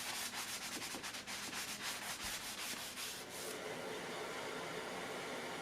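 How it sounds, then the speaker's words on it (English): A 220 grit sanding block rubbed over a wooden side table: steady rhythmic back-and-forth scrubbing strokes, close and continuous, settling into a smoother even rasp toward the end, with no talk. "I use a 220 grit sanding block to come through and ease off all those areas."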